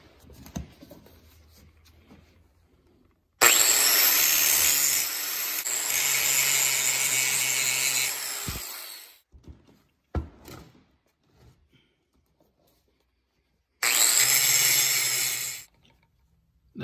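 A power tool grinds on a vintage vise in two loud harsh bursts, a long run then a short one, separated by quiet gaps with faint clanks.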